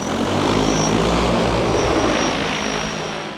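An ABZ L30 agricultural spray drone lifting off with nearly 160 pounds of load, its rotors producing a loud, steady, close-up buzzing roar that fills the whole moment and eases slightly toward the end.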